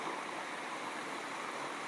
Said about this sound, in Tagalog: Yan ang ilog mga idol.